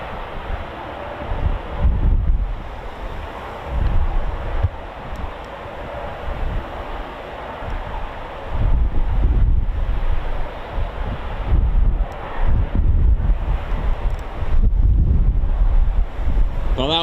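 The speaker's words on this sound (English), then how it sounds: "But that wind can just go away now." Gusting wind buffets the microphone at an RAF Coningsby airfield, heavy low rumbling bursts that rise and fall in repeated gusts, loud and close.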